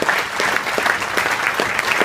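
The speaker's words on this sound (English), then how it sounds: "give yourselves a round of applause for coming out" Audience at a Canadian national hearing on UFO and ET disclosure breaking into a sustained round of applause, dense rapid clapping filling the room at close range with no speech over it.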